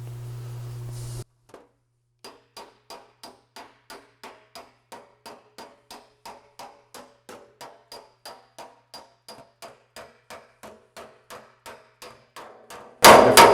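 Steady, evenly spaced hammer blows planish a steel Austin-Healey 3000 shroud over a dolly, about two dozen sharp metallic taps ringing close and clear with no talk between them.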